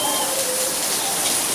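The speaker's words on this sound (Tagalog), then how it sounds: "Malakas ba yung ulan?" Steady rain hisses continuously, a dense even wash of falling water with a faint voice briefly in the background.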